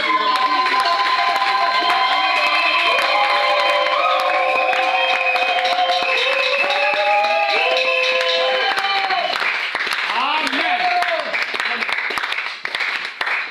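A church congregation cheers and applauds during a Sunday worship service, a steady roar of clapping and shouting voices mixed with music that holds for the whole stretch and thins slightly near the end.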